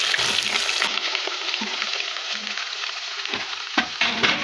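Ginger, green chilies and shallots frying in a pan for a sardine curry make a loud, continuous sizzle with a few stirring scrapes near the end.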